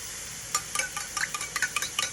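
Eggs go into a pan of frying rice, with a steady sizzle underneath and a run of quick, irregular metallic scrapes and clinks from stirring, close and moderately loud.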